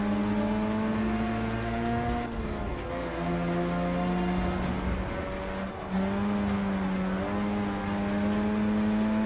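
Mazda RX-7 race car in Forza Motorsport 6 holds a loud, steady engine drone that dips and surges as the driver loses control and catches the slide, with tire noise mixed in throughout.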